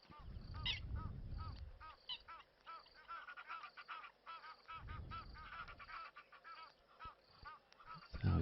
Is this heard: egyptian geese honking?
yes